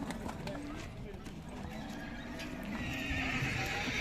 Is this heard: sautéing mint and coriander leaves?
no